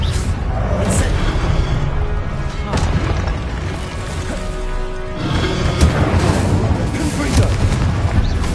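The Incendio fire spell cast in Hogwarts Legacy on PS5, loud booming blasts and crackling bursts with heavy low rumble, overlapping with game voice chatter in a dense battle mix.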